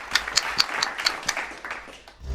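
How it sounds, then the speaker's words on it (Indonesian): A quick series of sharp hand claps in a rhythmic pattern, close by, fading out toward the end, during a classroom teaching session. "tepuk tangan untuk kita semua"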